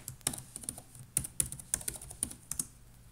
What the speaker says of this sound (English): open up terminal and type sudo notilus, then type in your password